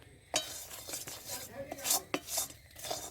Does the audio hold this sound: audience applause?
no